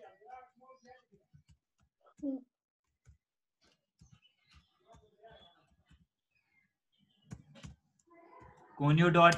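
Scattered clicks of coding keystrokes on a computer keyboard, soft and intermittent, under a person talking, with a louder burst at the end.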